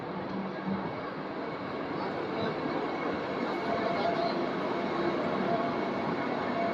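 Vande Bharat Express to Mangalore Central running at speed, heard from inside a full air-conditioned coach as a steady, dense rumble and rushing noise that holds evenly throughout.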